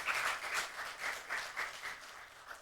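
A church congregation at a Sunday evening service gives a round of applause, a dense, fairly quiet patter of many hands with a loose pulsing rhythm that gradually eases off, heard from a short distance.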